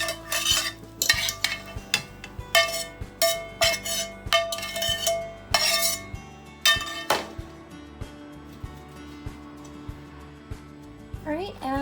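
Dishes and cutlery clink and scrape repeatedly while scrambled Thrive Life freeze-dried eggs are plated, sharp metallic taps in irregular bursts, close and fairly loud, fading to quieter handling.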